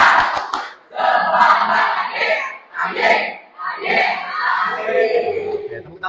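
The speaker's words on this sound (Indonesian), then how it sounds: "Keluarkan suara terbaik kalau bisa sampai kelas yang lain ikut kaget gitu ya. Siap ya. Tepuk semangat." A school class of children in a physical education lesson shouts a rhythmic spirit clap chant, loud group voices in bursts punctuated by sharp hand claps near the start.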